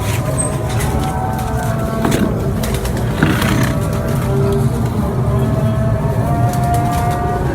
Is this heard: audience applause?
no